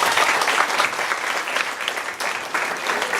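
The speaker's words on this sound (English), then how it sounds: "So give yourselves a round of applause." Audience applause at an improv class show, a steady dense wash of clapping from a room full of people, loud and continuous throughout with no voices on top.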